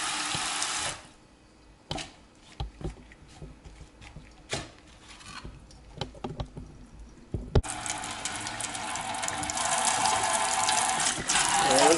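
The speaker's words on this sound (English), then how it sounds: "Looks like it's draining, no problem." Tap water gushes into a kitchen sink, stops, and a few clunks and knocks follow before the flow rushes back, filling and draining a sink freshly cleared with a 3/8-inch by 50-foot drain auger.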